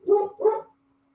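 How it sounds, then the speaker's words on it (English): Two quick, loud barks from a neighbor's dog, close by and alone, then silence. "See, there's this dog that lives next door that creates chaos"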